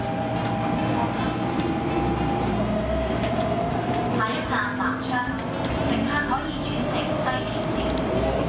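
A Hong Kong MTR metro train rumbles steadily throughout, a constant low roar with faint rattling, while a voice speaks over it.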